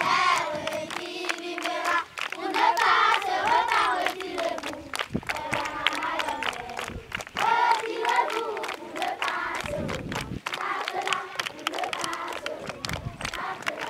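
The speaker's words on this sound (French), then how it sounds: "C'est avec des chants et acclamations que les écoliers de l'EPP d'Adunko se sont réunis." Schoolchildren at a primary school gathering for a cleanup and awareness event sing and cheer together, a loud, dense crowd of young voices with shouts and rhythmic chanting throughout.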